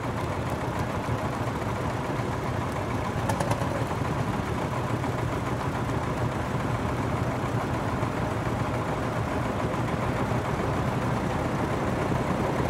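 Several vintage Marshall tractor engines chug steadily in the background at a steam rally, a low rumbling idle that continues unchanged the whole time without talk.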